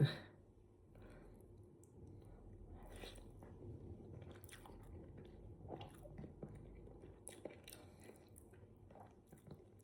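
Close, quiet chewing and soft squishy bites of chicken roast with hot rice, irregular mouth sounds and faint crunches over several seconds, no talking.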